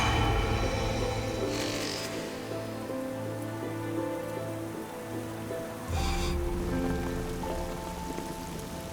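Heavy rain beats steadily on a rocky mountain ledge, a dense, close hiss with brief louder gusts, and a low drone runs beneath it; no one speaks.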